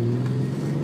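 Turbocharged VR6 engine in an MK2 Jetta revving hard, a loud, steady low drone close by with no talk over it.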